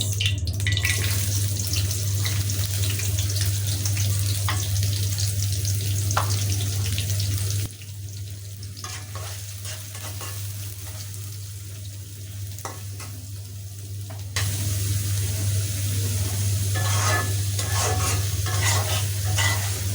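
Onion fries in about two tablespoons of oil as the base for a bitter gourd fry with pabda fish roe, giving a continuous close sizzle with steady stirring and scraping, over a low constant hum.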